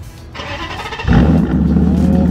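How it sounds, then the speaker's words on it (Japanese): Exhaust muffler on a Nissan President being revved lightly, a deep engine note that swells into a heavy, steady low drone after about a second, close and loud with no talk. "この迫力ありそうなマフラーの音をちょっと聞きたいんですけれども"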